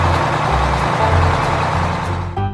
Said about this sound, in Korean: concrete mixer truck,